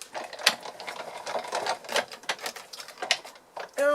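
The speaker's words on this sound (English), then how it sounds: "bring in my die cutting machine" A die cutting machine cranked by hand, with steady mechanical clicking and ratcheting a few seconds long, close by, ending in a brief higher tone.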